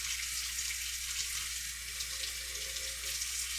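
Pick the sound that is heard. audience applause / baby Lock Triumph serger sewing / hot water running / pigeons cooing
hot water running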